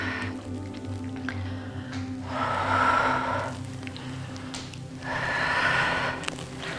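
Deep breaths in and out during a gentle seniors' exercise with an overball, two long breathy gusts rising and falling in turn, close and fairly loud over a low background hum, with no talking.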